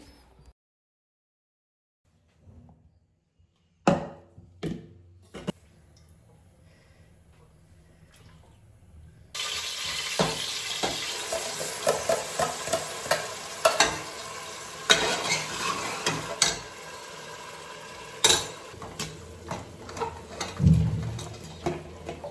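Ground masala goes into a hot tempering. A few quiet clunks come first, then a sudden steady sizzle starts, broken by repeated scraping and knocking as it is stirred.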